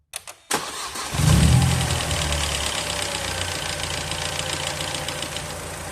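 A Mercedes-Benz W203 C180 with the M111 engine cranks briefly, fires up and settles into a steady, close idle that holds evenly to the end.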